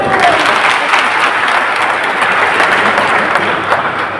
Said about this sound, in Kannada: ಎಲ್ಲರೂ ಒಪ್ತೀರಿ ಅನ್ನಂಗಿದ್ರೆ ಜೋರಾಗಿ ಒಂದು ಚಪ್ಪಾಳೆ ಹೊಡಿರಿ